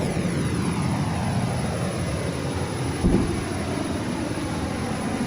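Learjet jet engines roar steadily on a takeoff run in a flight simulator game, a loud, continuous whine and rumble with a brief thump partway through, with no talk over it.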